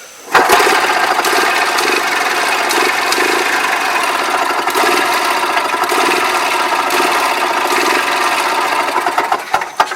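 A two-stroke gas-powered golf cart engine runs steadily at close range, a continuous rasping, buzzy drone that holds for about ten seconds with a few brief clicks near the end.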